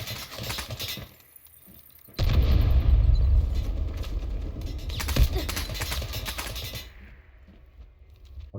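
A magnetic bomb goes off in the Delta Force video game, a heavy, sustained rumbling blast that swells suddenly and lingers for several seconds amid game effects before cutting off.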